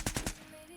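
Gunfire in a first-person shooter video game: three quick, loud shots in a rapid burst, followed by a fading tail and faint ambient game tones, with no talk.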